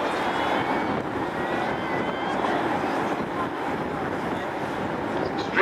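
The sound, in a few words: Airbus A380 with Rolls-Royce engines flying at airshow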